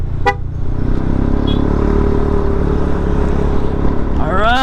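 Many cars and motorbikes pass on a busy mountain road between Nueva Vizcaya and Pangasinan, a loud steady engine rumble with a short honk near the start and a rising horn-like whine at the end.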